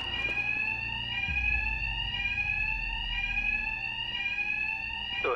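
An alarm wails in Batman: Arkham Knight, a loud, sustained electronic siren that holds its tone throughout, with a deep thud and rumble underneath early on.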